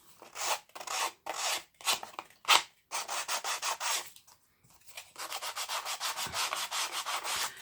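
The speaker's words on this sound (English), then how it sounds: "I'm just going to go around the edges with my sandpaper, and I'm just going to rough those up a bit more." Sandpaper roughing up the edges of glossy paper, a soft close scratchy rubbing in repeated short strokes with a brief pause midway, no voices.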